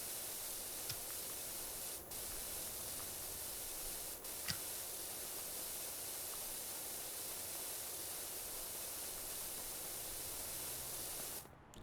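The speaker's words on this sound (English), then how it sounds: "Stubborn dirt. It's no match for my powerful spray." Video game pressure washer spraying away dirt, a steady broad hiss of spray running almost unbroken, interrupted by a couple of short gaps and faint clicks, with no talking.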